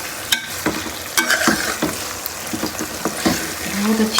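Potato and eggplant sabzi is stir-fried in a pan, with a loud continuous sizzle and irregular close scrapes and knocks of the spoon as the vegetables are turned.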